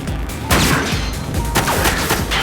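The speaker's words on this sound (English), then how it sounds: "Masayoshi resolutely pulled the trigger" A single sharp gunshot in a tense scene inside a car, loud and close, followed by crashing, scuffling impacts as glass breaks and bodies struggle, with no talk over it.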